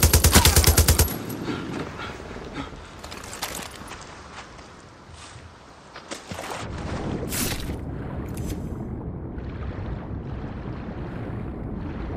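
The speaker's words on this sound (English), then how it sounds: "Is that gunfire? Yes! Yes, it is!" Far Cry 6 gunfire starts with a loud, dense automatic burst, then continues as scattered distant shots over wind and engine rumble across the open game world.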